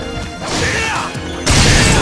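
Objects smash in the video game Sengoku Basara 2 Heroes: a loud crashing impact rings out, then a second, harder burst of shattering noise near the end, with no talk.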